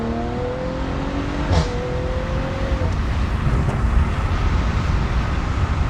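An Audi B9.5 RS5 fitted with a Milltek catback exhaust revs up close by, a loud, deep rumbling drone with a rising engine tone at the start that settles into a steady roar.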